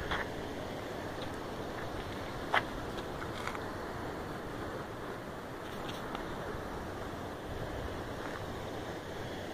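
Water rushing through the opened floodgates of the Cajuru dam, a steady broad roar close by and wind-buffeted, unbroken for the whole stretch apart from a brief sharp click.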